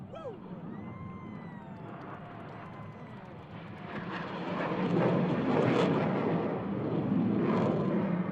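Blue Angels solo jets make a Knife Edge Pass at an air show practice, a broad roaring rumble that swells louder and closer midway and stays strong, with crowd and announcer voices beneath.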